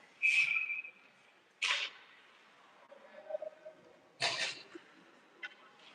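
A referee's whistle at a youth ice hockey tournament game in Manitoba gives one short, shrill blast near the start. Sharp bursts of rink noise follow, with skates scraping and sticks and puck clattering.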